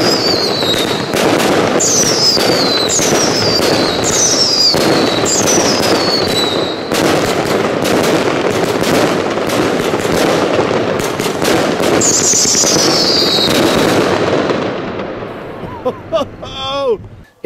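A class 3 firework cake fires a rapid sequence of shots, loud booming launches with whistling tails and crackling bursts, continuing for many seconds before fading into a few scattered pops at the end.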